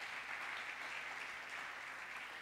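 A church congregation claps together in steady, unbroken applause, heard fairly softly and at a distance throughout.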